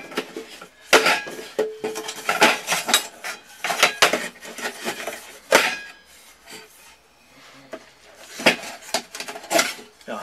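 Nested metal camping pots being worked loose and pulled apart, giving irregular close clinks, scrapes and knocks of metal on metal throughout, with no talking.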